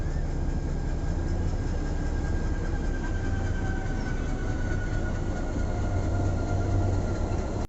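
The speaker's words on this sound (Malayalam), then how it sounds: "ഊട്ടി നീലഗിരി പൈതൃക തീവണ്ടി പോകും." The Nilgiri heritage mountain train rolls past near Coonoor railway station in a constant, dense rumble, steady and loud throughout, with a faint thin squeal running above the rattle.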